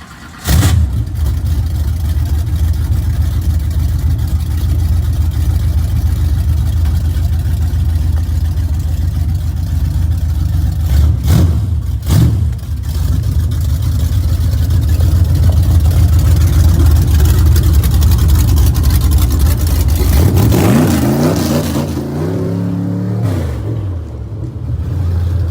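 Old dirt track race car engine idling rough and loud close by, a steady throbbing rumble that swells in brief revs and falls off near the end.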